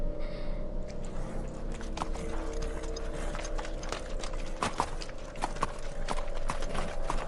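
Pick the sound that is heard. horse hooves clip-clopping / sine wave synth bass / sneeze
horse hooves clip-clopping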